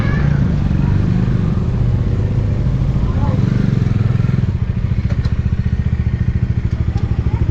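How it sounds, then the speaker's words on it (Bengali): A motorcycle engine runs during a test in Leh, its steady mid-pitched rumble close and loud, settling into a rhythmic idle putter toward the end, with voices talking over it. "এইখানে আমার গাড়িটা টেস্ট করা চলছে"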